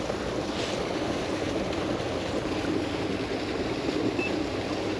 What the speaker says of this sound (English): The water does look clean, being blasted down onto that rock and flowing off in that direction.